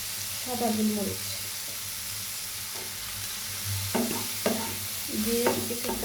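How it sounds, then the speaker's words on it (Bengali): Vegetables for chicken fried rice frying in a pan with a steady close sizzle, broken by repeated scraping stirs and clatters of a spatula against the metal. "আমি রান্না করে নেব সবজিগুলো"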